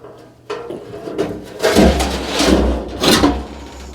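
A metal ash pan on a DS Stoves wood stove is pulled out and handled by its grip, giving several close scraping slides and clunks with no talk.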